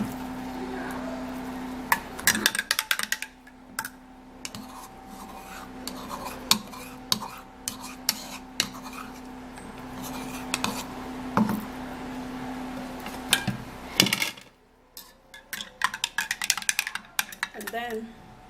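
Boiled egg going into a drink in a glass: scattered clinks and knocks of glass and utensils, with light rubbing and stirring, over a faint steady hum, fairly quiet and close.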